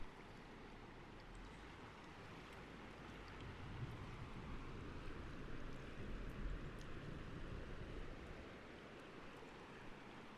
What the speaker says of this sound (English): Cars going above, and obviously the water going below.